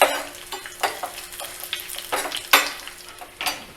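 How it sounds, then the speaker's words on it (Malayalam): Dried red chillies and curry leaves crackle in hot oil for a Kerala-style tamarind curry, sizzling in bursts as a spoon stirs and scrapes the pan in uneven strokes. "ഇനി നമുക്ക് 2 ഉണക്കമുളക് മുറിച്ചത്, 2 തണ്ട് കരിവേപ്പില, ഇതും കൂടി ഇട്ടൊന്ന് മൂപ്പിക്കണം."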